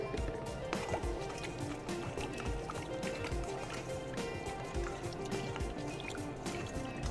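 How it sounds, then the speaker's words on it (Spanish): A whole-wheat preferment is stirred and diluted in water for whole-wheat croissant dough, giving a steady stretch of close sloshing, dripping and splashing with no pauses. "Lo vamos a diluir en el agua y después agregaremos la harina."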